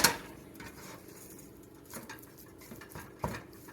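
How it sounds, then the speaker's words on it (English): A spatula scraping and clinking in a pot while butter is worked into mashed potatoes for colcannon, with soft intermittent scrapes and a few sharper knocks, nearby and fairly quiet. "Take the spatula and try to incorporate that butter and all of it together"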